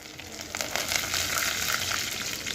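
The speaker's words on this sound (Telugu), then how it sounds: "పల్లీల్ని మొదట బాగా ఫ్రై చేసుకోవాలి. ఇదిగోండి తర్వాత వెల్లుల్లిపాయలు వేస్తున్నాను." Peanuts and garlic frying in oil in a pan, giving a continuous bright sizzle with a faint crackle that stays fairly even and close throughout, with no voices.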